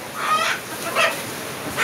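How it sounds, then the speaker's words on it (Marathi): Several loud, nasal squawks from chickens burst out at intervals, close by, with a noisy barnyard background between calls, at a village Gondhal ritual in Konkan. "कोंबड्या आलेत. चौघांचे 4 कोंबडे."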